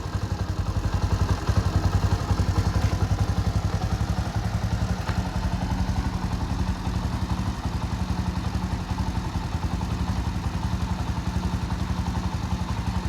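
A Bajaj Boxer X150 motorcycle engine idles steadily and close by, a smooth, even low throb with light mechanical clatter that runs unchanged for the whole stretch.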